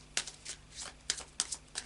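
An oracle card deck is shuffled by hand up close, giving quick soft riffling bursts in an uneven rhythm, quiet and alone.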